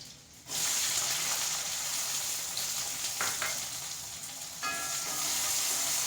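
Garlic and chopped small shallots frying in hot oil for a pumpkin-leaf thoran, a steady close sizzle that jumps up as they hit the pan and keeps crackling evenly.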